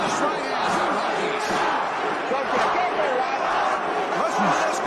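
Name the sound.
boxing match crowd cheering, Rocky film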